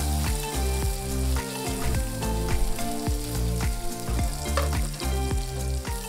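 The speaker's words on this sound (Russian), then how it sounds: "Жарим их до небольшой корочки." Sliced sausages fry in a pan with a steady loud sizzle and crackle, punctuated by occasional pops and scraping from stirring.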